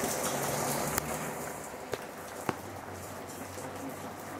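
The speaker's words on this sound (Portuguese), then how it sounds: "E aí está o nosso pesadelo, o nosso terror, aquela chuva que vem de tarde" Afternoon rain falling outdoors, a steady broad hiss of drops on surfaces with a few sharp louder drips or taps scattered through it.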